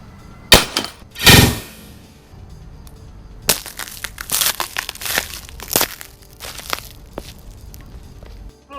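Old fluorescent tubes being crushed inside a closed container: a few sharp, loud glass-cracking bursts up close, then a run of smaller crunches and clinks as broken glass settles.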